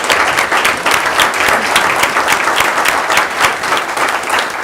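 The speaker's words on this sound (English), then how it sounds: "applaud you for the service you've given the city." Applause from the audience at a City of Franklin Historic Zoning Commission meeting, a loud, close burst of many hands clapping with an uneven pulsing rhythm, sustained throughout with no talking.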